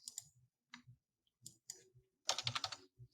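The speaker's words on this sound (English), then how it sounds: "sorry, I'm typing in numbers to figure it out" Bursts of clicky keystrokes on a computer keyboard, a few scattered taps then a quick run of rapid typing, close and fairly quiet.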